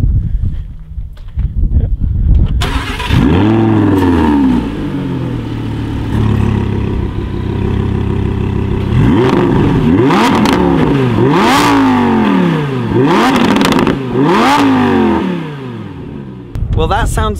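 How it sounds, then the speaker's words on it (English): An Audi R8 Spyder with the Audi Sport exhaust fires up and then takes several sharp revs: loud, close engine blips that rise and fall repeatedly, some of them bunched, with a person talking at moments. "let's start off with a start up and a few revs from the Audi Sports exhaust"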